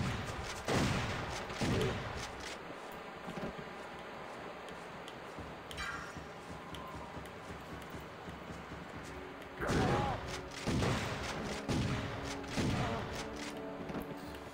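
Shotgun blasts from the video game Turok Evolution, a few loud broadband bursts spaced apart over a busy game soundscape with faint talk underneath.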